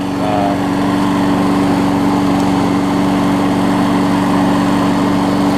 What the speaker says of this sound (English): Very good, gonna be a very good lawnmower here.